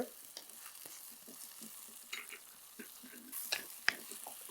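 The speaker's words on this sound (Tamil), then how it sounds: "இது லைட்டாக வதங்கினதுக்கப்புறம் நம்ம என்ன செய்யுங்கன்னா தக்காளி அதையும் சேர்த்து லைட்டாக அப்படியே வதக்கி எடுத்துக்கோங்க" Onion and tomato sautéing quietly in a pan for a curry, a faint steady sizzle with scattered light clicks and scrapes of stirring, a couple of sharper metallic taps near the end, no talking.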